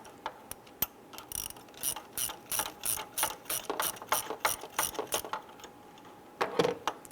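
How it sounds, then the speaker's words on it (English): A ratchet spins EGR valve bolts into their threads on a 2005-2010 Chrysler 300, giving a steady run of quick, close clicking strokes, pausing briefly, then a final louder burst. "I'm just going to get the bolts started enough to catch that gasket."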